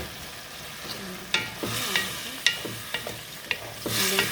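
Lentils sizzle in a hot pot for fasting-style lentil soup while a utensil stirs them, scraping and clicking in a quick irregular series of close, crisp knocks over a steady frying hiss.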